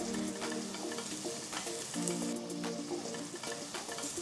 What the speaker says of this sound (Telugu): ఇప్పుడు చిన్నగా తరిగిన 3 ఉల్లిపాయలు కూడా వేసి వేయించాలి.